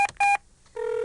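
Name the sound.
telephone number being dialed, from a video game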